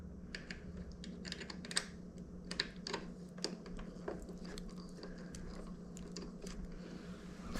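A screwdriver backs a Phillips screw out of an Addi knitting machine, giving a run of small, quick, irregular mechanical clicks and ticks close up over a steady low hum.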